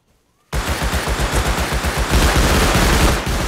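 Full metal AK rifle firing full-auto in the video game Rust, a loud, close, rapid burst of evenly spaced shots running continuously for about three seconds after a quiet start.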